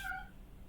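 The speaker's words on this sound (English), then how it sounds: "you may occasionally hear my kitty cats. It's getting close to supper time, and so they like to talk" Pet cats meowing as supper time nears, a brief meow up front that quickly fades into quiet room noise.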